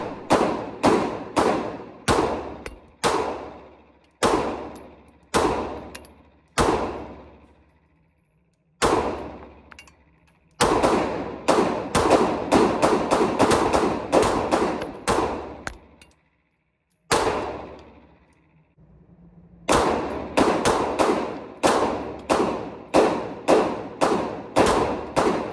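Glock 19x pistol with an ETS 32-round extended magazine firing outdoors: loud, close single shots in quick strings and slower runs, each sharp crack trailing off into echo, with short pauses between strings.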